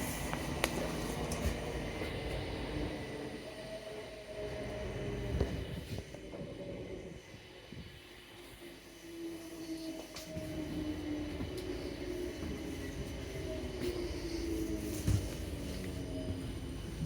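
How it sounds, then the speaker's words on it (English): A South Western Railway train runs between Waterloo and Strawberry Hill via Richmond, giving a steady interior rumble with rising and falling motor whine, occasional clunks from the wheels and a faint squeal, with no talk. "This train is for Wimbledon."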